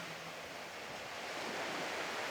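Ocean waves wash in on a calm sea at a surfing beach in Yangyang, a soft, steady broadband rush that swells slightly louder toward the end, heard alone.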